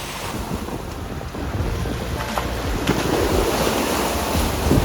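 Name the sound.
waves on Lake Geneva at Lausanne in strong wind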